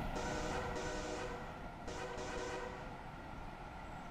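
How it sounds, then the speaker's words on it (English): Horn of the Estella Express train in Train Simulator 2017, heard as a few short, faint tonal blasts over the steady rolling rumble of the train. "what you're hearing there is the horn from the Estella Express."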